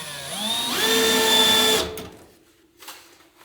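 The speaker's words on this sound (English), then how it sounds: "I did metal strapping so I can do it real tight and use the screws almost to draw it into the wall" A power drill drives screws through metal strapping fixed to a house wall. It whines loudly for about two seconds, its pitch climbing as the screw bites in, then cuts off, leaving a faint tail and a brief scrape.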